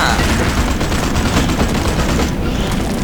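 Loud, sustained gunfire in the Suicide Squad video game, a dense unbroken volley of shots filling the whole moment.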